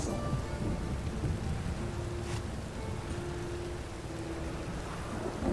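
Steady rain pours down in the fantasy video game The Witcher 3, a continuous hiss with low rumbling thunder underneath and a brief crackle partway through, while a faint tonal game hum lingers in the background.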